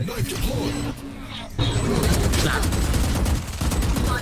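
Volleys of gunfire in the video game Valorant, loud rapid shots with a short lull before heavier automatic bursts resume, while players talk over the shooting.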